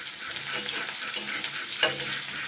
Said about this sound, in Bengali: আলুগুলো কিন্তু ভালো করে ফ্রাই করে নেব